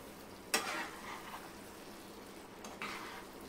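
Egg masala on a tawa being stirred, soft sizzling with two scraping strokes of a spatula against the hot pan, quiet and close.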